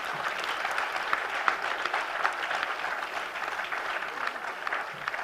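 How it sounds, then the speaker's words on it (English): Sustained applause from a large audience for medalists and graduating students at a university convocation ceremony, dense, even clapping filling the hall without pause. "Let's have a big round of applause for all of them"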